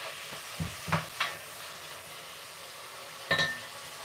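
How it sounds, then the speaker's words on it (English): Food frying on a stovetop burner turned up high gives a soft background sizzle, broken by a few short scraping stirs and a louder clatter of utensil against pan near the end. "Sizzle, sizzle, sizzle."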